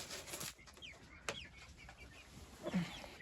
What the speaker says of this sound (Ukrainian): Петушок собі там коло стінки.